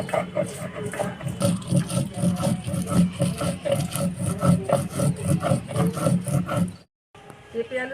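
Cumin with dried and green chillies is ground into a paste on a stone, making loud, close, rhythmic rasping strokes that keep an even back-and-forth pace, then stop abruptly near the end.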